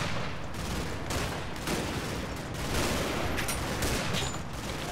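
A half-track's machine gun rattles in sustained bursts during a video game battle, loud and continuous for several seconds, with no voices over it.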